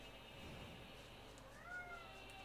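A pet cat meows indoors: one faint, thin meow near the end, barely rising above the low, steady hum of a quiet room.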